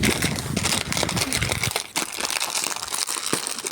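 Food packaging being torn open with loud, continuous plastic crinkling and crunching, close up, easing slightly after a sharp rip partway through; no talk over it.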